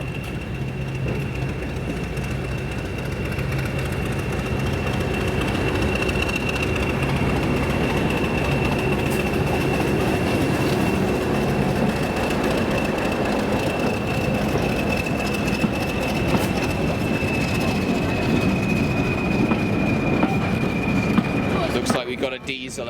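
Diesel train on the Kent and East Sussex Railway, a steady close engine rumble with rolling wheel noise and a sustained high squeal throughout, ending in a burst of clattering.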